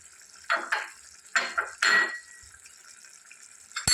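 A spoon scraping and clinking against a pot as drumstick curry is stirred, several short close bursts of wet scraping and metallic taps with quiet pauses between.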